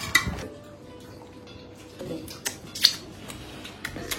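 Rice is served onto a plate at home: a few sharp clinks and scrapes of a serving spoon against the dish, separated by quiet pauses, close by and with no talking.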